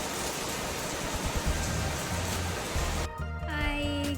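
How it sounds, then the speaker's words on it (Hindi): Steady, dense hiss of rain falling, with a faint musical tone surfacing near the end. "इतनी जोर से बारिश हो रही है"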